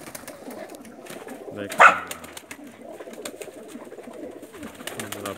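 Pakistani Teddy pigeons coo softly in a loft, with low repeated throaty coos, one louder call near the middle, and someone speaking briefly over them.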